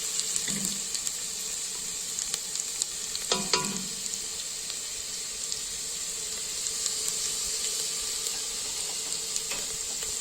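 Sliced peppers sizzling in a hot pan, a constant bright frying hiss close up, broken by a couple of brief clinks of a utensil against the pan.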